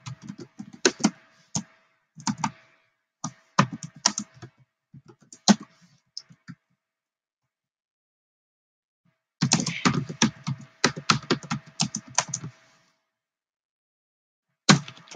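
Clicky computer keyboard typing in bursts of keystrokes, a quiet pause in the middle, then another fast flurry and a final few taps, close and fairly soft with no talk.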